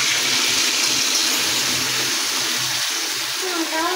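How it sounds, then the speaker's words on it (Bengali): Water that was used to wash spices is poured out, giving a continuous loud gushing splash for several seconds with faint voices beneath it. "মশলা ধোয়া জলটা দিয়ে দিচ্ছে।"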